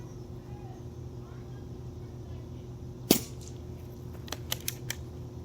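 A Flying Dragon XS60C airgun fires a ten-shot chronograph string, one sharp crack followed by several fainter quick snaps over a steady low hum, fairly quiet and close.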